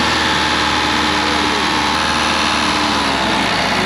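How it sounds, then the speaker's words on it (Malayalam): A motorcycle engine, jump-started from a car, runs at a loud, steady idle with a constant low rumble close by and no break. "അങ്ങനെ വണ്ടി സ്റ്റാർട്ട് ചെയ്തോ"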